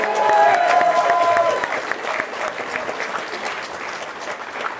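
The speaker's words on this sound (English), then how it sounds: "Can we have another round of applause for that?" A political launch crowd in Newcastle applauds after a speech, with loud, dense clapping that starts strong and eases slightly, a voice briefly audible over it at the start.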